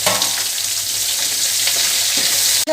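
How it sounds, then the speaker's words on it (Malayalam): Soybeans and onion are stirred as they fry in a pan, making a loud, dense, unbroken sizzle with faint scraping that cuts out briefly just before the end. "എല്ലാം അടിച്ച് ഞാൻ ഇളക്കി കൊടുക്കാം"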